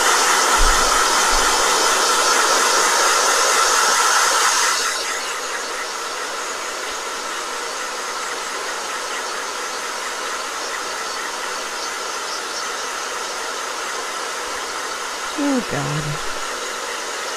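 A blow dryer roars loud and steady, its pitch and level dropping slightly after a few seconds, then running on continuously; a brief exclamation cuts in near the end.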